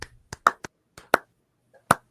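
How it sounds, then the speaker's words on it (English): A small, deliberately quiet golf clap: a handful of soft, sparse, separate hand claps with gaps of silence between them, close by and without any talk. "We'll just give him a golf clap"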